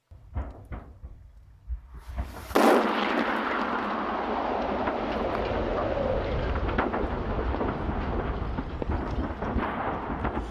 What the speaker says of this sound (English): we can see some Russian forces near to an ammo depot, watch the thing go up in flames